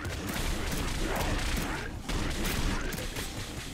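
Rapid gunfire from the Prismic Iris weapon in the game Nuclear Throne, a dense, continuous stream of loud shots and impacts with a brief dip partway through.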